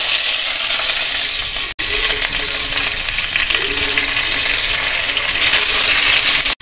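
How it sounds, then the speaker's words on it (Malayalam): Curry leaves hit hot coconut oil already crackling with mustard seeds, bursting into a loud, steady, hissing sizzle that fills nearly seven seconds, briefly cut off twice. "ഞാൻ കറിവേപ്പില ഇടുകയാണേ"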